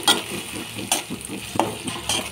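Chopped banana flower tipped into hot oil tempered with dried red chillies and nigella seeds, giving a loud close sizzle with clattering stirs and utensil knocks against the pan.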